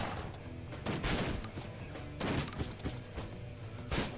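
Shotgun blasts in the Happy Room video game, several loud, heavy booms spaced about a second apart over a dense, cluttered background of game noise.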